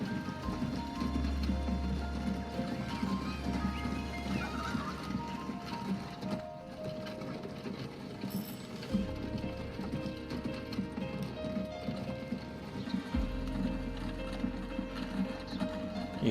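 Faint, steady hoof clip-clop from a horse-drawn tram in the Transport Fever 2 video game, repeating rhythmically over a quiet bed of ambient game sound and low hum.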